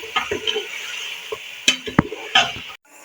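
Garlic and chopped ginger fry with mutton in a pan as a spoon clinks and scrapes, giving a few sharp knocks over a soft, intermittent sizzle, close up with no talking.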